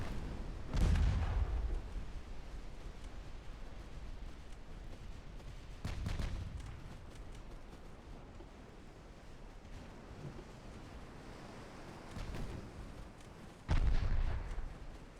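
Torpedoes striking warships in the naval strategy game Ultimate Admiral Dreadnoughts, several heavy booming explosions spaced apart over a low rumbling sea backdrop, the first and last blasts loudest.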